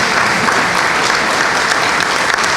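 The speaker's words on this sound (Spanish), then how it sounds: "le brindamos nuevamente un fuerte aplauso al doctor Utsumi." An audience at a national congress session in Argentina gives a speaker sustained applause: dense, continuous clapping with no pauses, heard alone.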